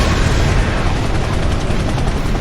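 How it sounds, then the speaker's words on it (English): Heavy combat helicopter in Armored Core 6, a loud continuous rotor roar with booming explosions and gunfire mixed in throughout, dense and close. "Helicopter! Helicopter!"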